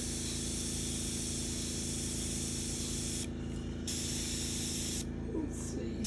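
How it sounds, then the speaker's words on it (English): An airbrush sprays white paint for highlights on a Top Gun display base, a steady close hiss running the whole time with two short breaks where the trigger is released. "I've got some white in my airbrush"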